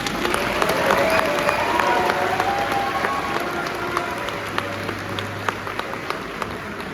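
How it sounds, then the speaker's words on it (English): Steady applause from a large crowd, dense clapping that carries on throughout with a few sharper claps standing out, loud and continuous. "Let's give him another round of applause."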